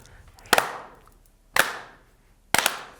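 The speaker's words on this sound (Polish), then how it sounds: "Klaszczemy w dłonie równo w tempie takim." Three sharp hand claps spaced evenly about one second apart, each crisp and close with a short ringing decay, in a quiet room.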